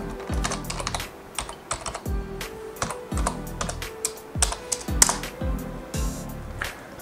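Fingers tap out a temporary password on a computer keyboard in steady, close bursts of clicky keystrokes with brief pauses between runs, and no voices.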